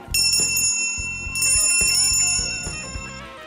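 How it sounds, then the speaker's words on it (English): A bell rings out loudly in two quick bursts of bright, sustained metallic dings that slowly fade, with no talking. "Oh, look, there's a bell."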